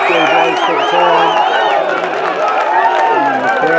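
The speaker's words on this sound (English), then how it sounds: "And the crowd goes nuts." Football crowd erupting in loud, sustained cheers and whoops after a last-minute winning goal, with a commentator's voice talking over the roar.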